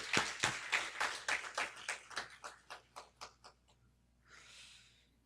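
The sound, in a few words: church congregation clapping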